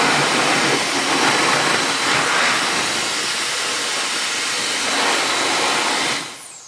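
Jet Dryer blower air duster blasting air, a loud close continuous rushing hiss with slight swells in intensity, then winding down and cutting off near the end.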